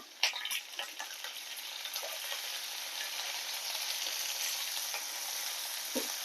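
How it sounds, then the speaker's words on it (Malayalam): Bitter gourd fries with curry leaves in a pan, a steady bright sizzle throughout while a spoon stirs with a few scraping clinks early on, close and fairly quiet. "നന്നായിട്ട് ഇളക്കി കൊടുക്കുക"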